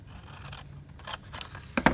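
Scissors snip through basic black cardstock at close range, a few soft slicing strokes followed by two sharper, louder closing cuts at the end.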